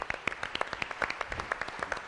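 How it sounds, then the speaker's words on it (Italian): A television show audience applauds a guest with sparse, distinct claps, fairly quiet and somewhat distant, forming an irregular patter of individual hand claps. "L'applauso che vi chiedo è per Patrizia Patelmo."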